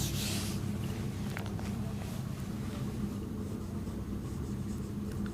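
Marker or chalk writing on a board during a Class 12 maths lesson on continuity and differentiability, a steady scratchy rubbing sound that runs on without pause over a low room hum.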